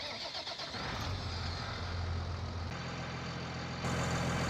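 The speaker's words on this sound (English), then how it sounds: "I'll go and fire it up, and you guys can hear the engine differences." An NMC Scarok truck engine in Farming Simulator 2019 cranks and fires up, then settles into a steady low idle with a brief shift in pitch, heard quietly and alone.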